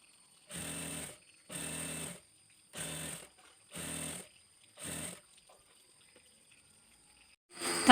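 Sewing machine stitching an Arabic dress, five even bursts of rapid mechanical whirring separated by short pauses, close and clear.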